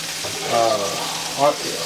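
Lamb shoulder chops sizzle in a pan of olive oil, a steady frying hiss with two brief louder swells, voices faintly present in the background.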